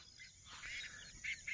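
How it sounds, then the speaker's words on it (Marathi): Birds call on a cloudy hillside in the morning: faint, high chirps come in a few scattered bursts over quiet open-air background noise. "पक्ष्यांचा आवाज,"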